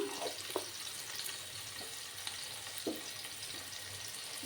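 Potatoes fry with turmeric in a pan, giving a steady close sizzle with a few soft scrapes and taps of stirring over the top.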